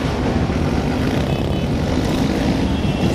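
Over 200 motorcycles massed together at a Christmas street gathering, a loud continuous roar of engines blending into a dense, distant-sounding wall of droning noise.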